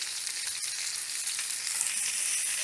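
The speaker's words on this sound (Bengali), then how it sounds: "পটলগুলো আমি 3 মিনিট মতন ভেজে নিলাম।" Pointed gourds (potol) fry in hot oil for a stuffed Bengali dolma, producing a constant close hiss and crackle with a faint stir partway through and no talking.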